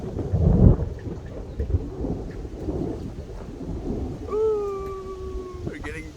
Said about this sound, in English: ooh, we're getting a lot of rain tonight, it seems